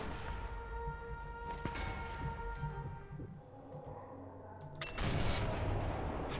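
A few sharp sniper rifle cracks ring out amid game background noise in Sniper Elite 4, followed by a louder burst of rumbling blasts near the end.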